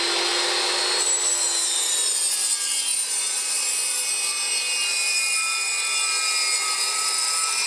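A saw, likely a power saw given the steady high whine, cuts through a wooden board for a raised garden bed. The loud, close, continuous cut runs for several seconds with no talking.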